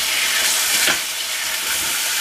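Rabbit meat frying in a pan gives a loud, continuous hissing sizzle that swells briefly near the middle before settling back, heard close up with no voices.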